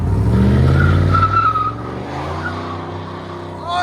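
A 1995 Chevy 1500 Z71 with a 5.7L 350 V8 and a Magnaflow exhaust on 3-inch pipe with dual tips revs loudly up close, a deep, steady engine roar that swells and then settles.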